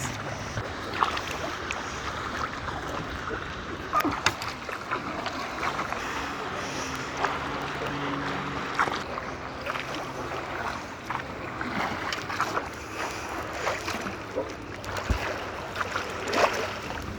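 A rowing boat moves along the sea near hidden beaches and caves, with steady washing water, splashes and lapping waves, and faint creaks and oar strokes breaking through at irregular moments, with no talk.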